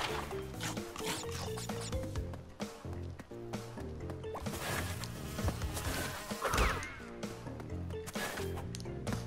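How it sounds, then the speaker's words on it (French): Bees buzzing in Crash Bandicoot 2, a faint insect drone running through dense, loud game music and effects for the whole stretch. "les abeilles sont vachement plus virulentes que dans les anciens"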